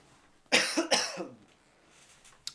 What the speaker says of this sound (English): He's excused the cough once again.